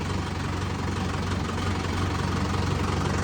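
A heavy diesel tractor engine idles steadily nearby, a continuous low throbbing rumble with no pauses.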